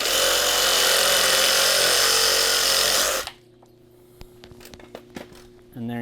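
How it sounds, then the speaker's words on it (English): A reciprocating saw cuts through PVC electrical conduit, trimming about an inch off the pipe, outdoors on a patio wiring job. It roars loud and steady for about three seconds, then stops abruptly, leaving quiet handling clicks and knocks. "I need to trim a little bit off of this piece of conduit, about 1 inch. So with my recip saw,"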